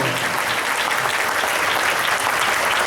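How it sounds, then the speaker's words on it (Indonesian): A room full of people at a Prudential agency gathering gives a steady, dense round of applause, loud and unbroken throughout. "Oke, kalau ini tepuk tangan senior unit manager"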